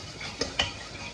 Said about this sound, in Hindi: तो हमने अब अपनी दाल छौंक दी है